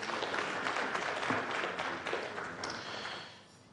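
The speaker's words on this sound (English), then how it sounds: "Another round of applause for him, please." Faint, distant audience applause at a business breakfast meeting broadcast on a morning TV show, a soft, even wash of many hands clapping that tapers off toward the end.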